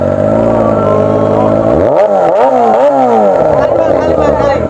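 A motorcycle fitted with a loud Vilan aftermarket exhaust idles steadily, then is blipped through several quick rising-and-falling revs before settling back to a throaty idle, close and loud throughout.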